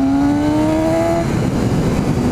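A Suzuki GSX-S 750 motorcycle rides through corners, its engine loud and close with a rising whine that drops off as the rider eases the throttle, then rumbles on with steady wind noise.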